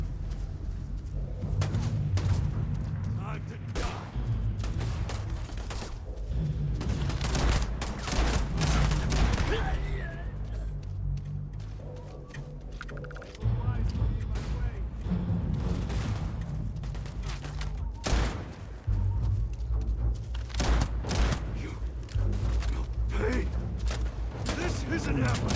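Pacifier shotgun blasts and other weapons firing during a Starfield gunfight, loud repeated shots scattered through the stretch with pauses, while people talk over much of it.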